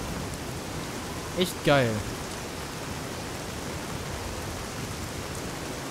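Steady rain falls in Fallout: New Vegas as a constant soft hiss across the whole stretch, with someone talking briefly near the start.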